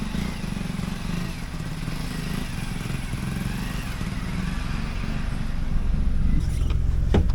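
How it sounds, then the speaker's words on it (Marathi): A motorcycle is ridden through deep mud in a flood-damaged area, its engine droning steadily and growing slightly louder as it approaches. "ते बघा चिखलातून कशी मोटरसायकल सुद्धा आणतात"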